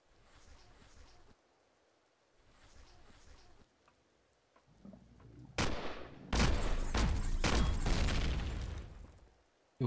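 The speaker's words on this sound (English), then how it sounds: "Something was firing at me." Enemy gunfire in the space survival game Empyrion Galactic Survival, loud bursts of shots coming in clusters after a quieter stretch, growing dense and sustained toward the end.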